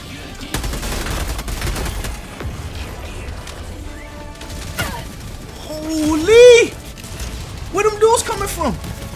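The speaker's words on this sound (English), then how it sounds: "they shooting me from the tower" Enemy gunfire crackles in the shooter video game Helldivers 2 as bursts of sharp shots. A player's excited voice rises over the shooting near the end.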